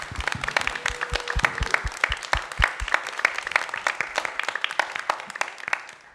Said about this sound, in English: So one round of applause for all the competitors today